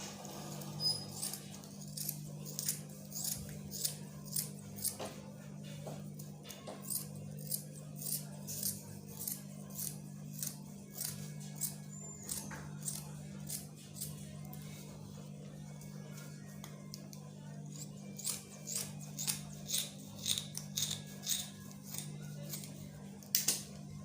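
Scissors snip through stiff lace fabric while cutting out a flare sleeve, giving a long run of quiet, rhythmic crisp clicks and crunches, close up over a low steady hum.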